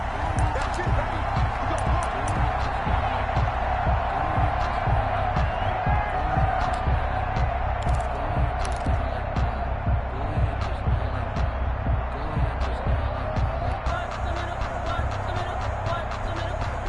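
A stadium crowd roars without a break before a New York Giants vs Dallas Cowboys NFL video game matchup, a dense, loud wash of cheering with scattered sharp claps and thumps, and a commentator's voice talking over it.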